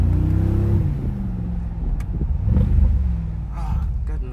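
A 2019 Mercedes-AMG G63 Edition 1 gives a deep, loud engine rumble that swells and dips as it pulls through the gears, heard from inside the cabin alongside a voice.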